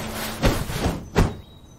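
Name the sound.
door opening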